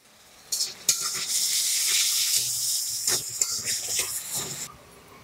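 Tamarind juice poured into a hot pan for North Karnataka junakada vada, giving a loud, steady hiss that swells suddenly, holds for several seconds with a few clinks, then cuts off.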